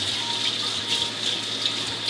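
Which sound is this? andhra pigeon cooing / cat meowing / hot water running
hot water running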